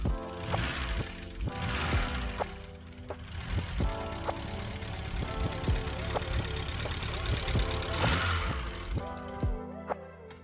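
A rebuilt VW MK3 Golf GTI engine cranks and fires for its first start, then settles into a steady, slightly knocking idle close by, with a lumpy rhythmic pulse before cutting off near the end.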